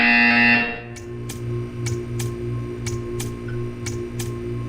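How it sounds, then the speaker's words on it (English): A test-chamber buzzer from Portal 2 sounds as a series of sharp, evenly spaced pulses, about nine in a few seconds, each short and bright, over a steady low electronic hum after a louder opening tone. "You will hear a buzzer."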